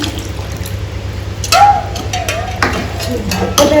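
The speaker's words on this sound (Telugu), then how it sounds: "మేము కొద్దిగా వాటర్ పోసుకుందాం" Water poured into a pot of cooking tomato dal gives a couple of brief splashing bursts over a steady low kitchen hum, with soft stirring and bubbling between them.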